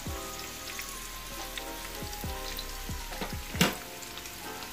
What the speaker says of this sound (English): And we're gonna be giving that a nice little stir to incorporate everything.